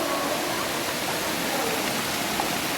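Cold water flowing steadily inside Sumaguing Cave, a continuous broad rushing wash like a stream or small cascade, close and fairly loud throughout with no clear talk.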